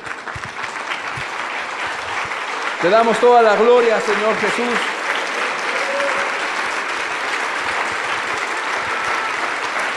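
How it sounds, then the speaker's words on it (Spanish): A church congregation stands and gives sustained applause, loud and continuous throughout, while a preacher speaks and sings over it. "vamos a ponernos de pie y vamos a dar el último aplauso a Jesús"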